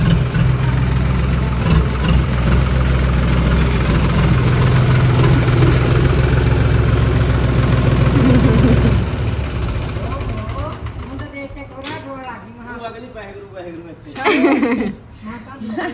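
A tractor engine idles loudly with a low, steady chug for most of the clip, then cuts out as people talk and laugh nearby.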